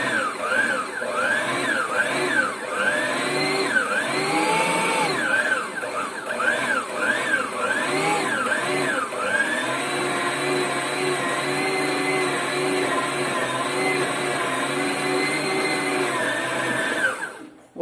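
An electric mixer beats milk and eggs into polvilho (cassava starch) biscuit dough with a loud, continuous motor whine whose pitch wavers and swoops as it works, with no voices over it.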